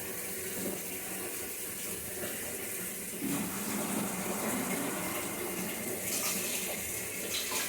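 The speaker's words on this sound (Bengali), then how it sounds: "আলুটার সাথে একটু কষিয়ে তারপর দিয়ে দিচ্ছি জলটা।" Water pours steadily into a pot of potatoes sautéed for a hilsa shutki curry with vegetable stems, a continuous close splashing gush that grows fuller partway through.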